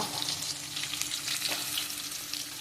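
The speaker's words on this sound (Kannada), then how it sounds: "ಕರಿಬೇವು ಮತ್ತು ಈರುಳ್ಳಿ ಹಾಕಿ ಫ್ರೈ ಮಾಡುವ" Curry leaves and onion frying in hot oil for a chicken curry, a soft continuous sizzle with crackling pops and a stirring scrape, close and fairly quiet, no talking.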